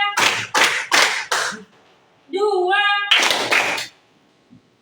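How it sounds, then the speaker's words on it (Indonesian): A sixth-grade class claps in unison: four sharp, evenly spaced claps, a single voice counting aloud, then another burst of rhythmic claps, all close and loud in a classroom. "Tepuk 1, tepuk 2, tepuk 3"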